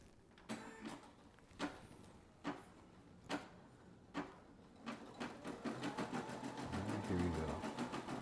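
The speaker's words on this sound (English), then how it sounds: "And now we just press this button, and it'll start to embroider." An embroidery machine stitching a patch starts with a series of separate sharp mechanical thumps about a second apart, then settles into a rapid, steady clatter of needle strokes that grows louder, close by with no talk.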